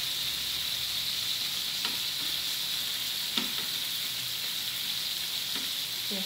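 Shrimp sizzle steadily on a grill pan with a little oil and salt, a constant close frying hiss with a few faint clicks and pops scattered through.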